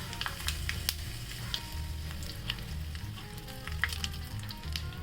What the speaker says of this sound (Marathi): तडक्यासाठी मी तेल गरम करून घेतलेलं आहे बघा याच्यामध्ये थोडं जिरं घालते आणि लाल मिरची